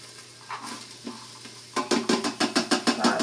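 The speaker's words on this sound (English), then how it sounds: "So I'm going to do the onions and celery." Onions and celery sizzle in a pan, opening with scattered faint stirring scrapes before a steady run of sharp, rhythmic stirring strokes and clatter over the hiss, close and fairly loud.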